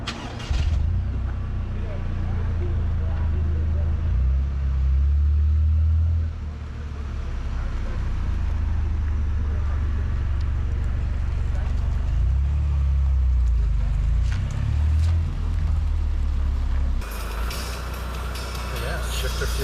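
A Toyota GR Corolla drives along a road, its engine a steady low drone with swells as it accelerates, plus road and cabin noise heard from inside the car, with brief talk near the end.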